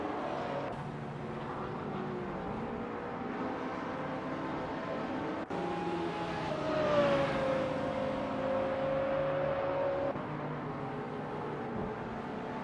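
Race car engines in the AI Racing Simulator video game drone steadily at close range, with a high engine whine sweeping down in pitch midway before settling; no voices.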